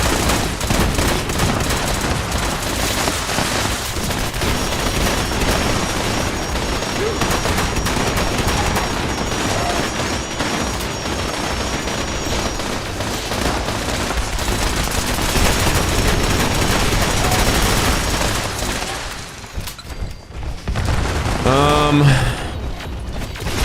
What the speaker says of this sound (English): Just fire bullets downrange.